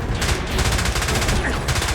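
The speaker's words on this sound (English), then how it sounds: "He's firing at us." Rapid automatic gunfire in the video game James Bond 007: Blood Stone, dense loud bursts of shots rattling continuously with a brief dip midway, close and dominant.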